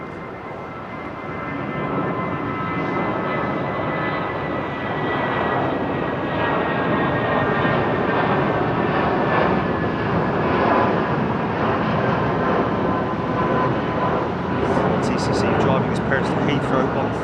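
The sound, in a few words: Boeing 787 Dreamliner taking off at London Heathrow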